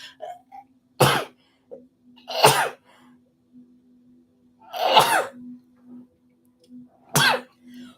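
Four sharp sneezes spaced a second or two apart, loud and close, with a faint steady hum in the background.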